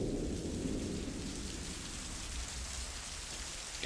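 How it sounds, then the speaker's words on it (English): Steady heavy rain with a low rumble of thunder in a stormy night scene from the video game Loom, continuous and fairly close with no voices. "It was a dark and stormy night."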